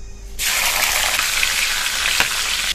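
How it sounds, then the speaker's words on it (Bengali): Slit green chillies and black nigella seeds hit hot oil left from frying fish, setting off a loud, steady sizzle that starts abruptly and holds for a couple of seconds before cutting off. "মাছ ভাজা তেলের মধ্যে দিয়ে দেবো কাঁচা লঙ্কা চেরা আর কালো জিরে।"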